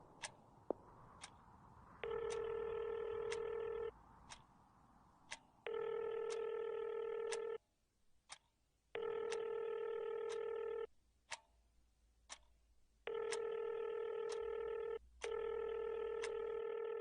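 Telephone tones sound as steady electronic beeps of about two seconds each, repeating with short gaps and sharp clicks between them. No voices are heard.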